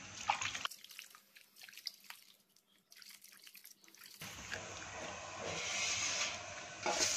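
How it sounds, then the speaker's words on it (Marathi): Mangoes being washed in water in a kitchen vessel while the stems are removed: splashing and running water with brief drips, quieter in the middle, then a steady louder rush near the end. "स्वच्छ हे आंबे आपल्याला धुवून घ्यायचे आहेत।"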